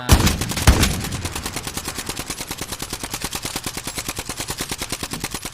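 Rapid sustained gunfire from a Barrett .50 sniper rifle in the video game Call of Duty Warzone, opening with two heavy shots followed by a fast, steady, evenly spaced volley of loud rounds.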